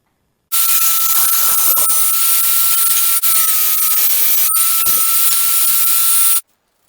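A power tool cuts strips off a wood board being made into a charcuterie board, a loud continuous broadband whine with a steady tone lasting about six seconds, briefly dipping once midway, with no talk.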